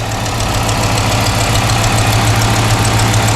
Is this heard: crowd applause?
no